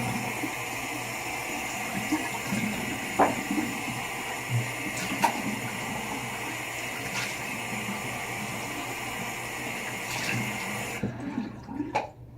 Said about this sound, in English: Rinsing my brush out where the alum soaks in.